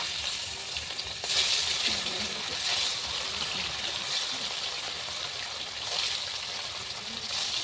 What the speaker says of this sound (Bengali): আমি তেল দিয়ে মাছগুলো ভেজে নেব।